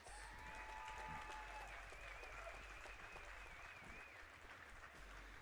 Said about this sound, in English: Everyone, let's give another round of applause for our champions.